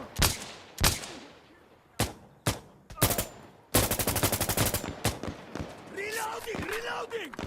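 A firefight in Arma Reforger: several loud, separate gunshots, then a rapid burst of automatic fire, followed by quieter rumbling and a voice talking.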